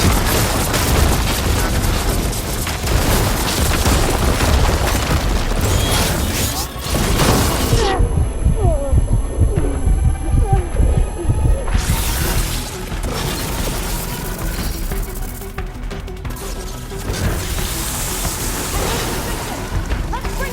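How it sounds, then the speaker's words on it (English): Heavy booming shots and crashing impacts from a ballista fired during a fight in the game Horizon Forbidden West, loud and continuous, with dense effects and a voice speaking over the action. "We'll fire a few shots from that ballista."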